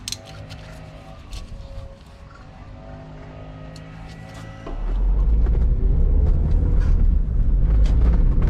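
A 2001 Toyota MR2 Spyder with a manual transmission on a test drive, its engine and road noise steady at first, then swelling into a loud, sustained low rumble as it accelerates.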